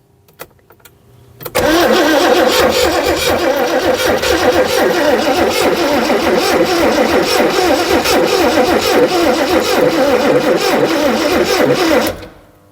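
A Morris 2200 engine, started for the first time in 30 years, catches after a brief crank and runs loud and steady at high throttle for about ten seconds before cutting off abruptly, with faint voices under it.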